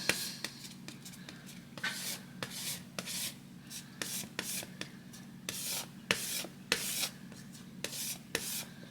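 Palette knife scraping and smearing paint across canvas in repeated short rasping strokes, close and fairly quiet, with a low steady hum underneath.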